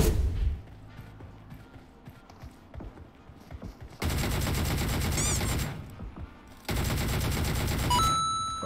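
DP-28 machine gun firing in PUBG Mobile, loud sustained bursts of rapid shots up close, two long volleys separated by quieter stretches of footsteps and movement, with shell clinks and a rising whine between.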